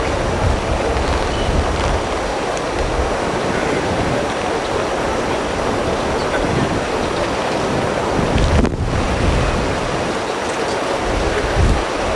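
Strong wind blows steadily across an outdoor tennis court during a match, a loud continuous roar of gusts buffeting the microphone throughout.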